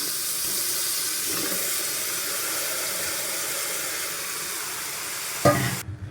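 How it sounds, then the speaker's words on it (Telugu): Tomato frying on a low flame while preparing Telangana-style boti (mutton tripe) curry, a steady soft sizzle with faint stirring, ending in a short louder clatter. "ఈ లో ఫ్లేమ్లోనే పెట్టుకొని మనం ఇది ఫ్రై చేసుకోవాలి టమాటా"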